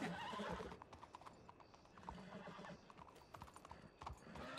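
A horse's hooves clip-clop in quick, uneven steps close by, broken by a loud, shrill whinny near the start and short snorts and neighs throughout.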